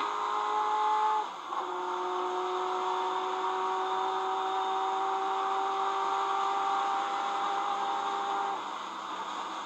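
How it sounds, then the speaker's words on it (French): Onboard a Ferrari F40 LM racing at the 1995 24 Hours of Le Mans, a steady, moderately quiet engine drone holds a sustained pitch with one brief dip from a gear shift early on. "nous voici à bord de la voiture de Michel Ferté, la Ferrari F40 LM"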